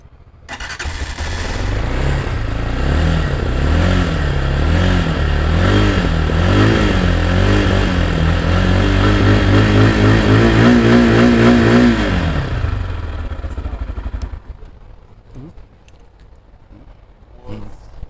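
A motorbike with twin exhaust pipes starts up close by and runs loud, its engine rising and falling through repeated revs for about twelve seconds before cutting off, leaving only faint clicks and rustles.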